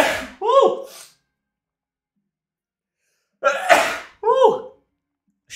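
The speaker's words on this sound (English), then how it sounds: "That was a good sneeze." Two loud, close sneezes burst out several seconds apart, each a sharp intake followed by an explosive release, with near silence between them.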